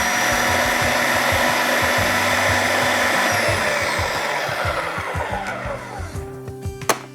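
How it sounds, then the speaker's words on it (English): A blender running continuously and loudly as it purées salsa verde with garlic, anchovies and capers, its motor whine steady before beginning to slow in the final second. "So again, lid on. And you blend it a little bit more."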